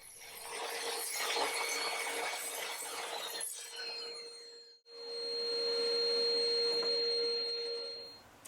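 A saw cuts through wooden posts clamped on a sled, giving a loud, whining rasp that stops abruptly, then a high tool whine that runs steadily before trailing off, with no voices.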